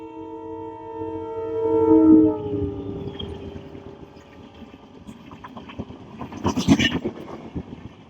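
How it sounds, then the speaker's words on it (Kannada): Train passing near a volleyball ground, a long sustained horn blast at first, then rumbling wheels and clattering rail noise rising again toward the end, fairly close. "ನೋಡಿ, ಈಗ ರೈಲ್ ಬರ್ತಾ ಉಂಟು"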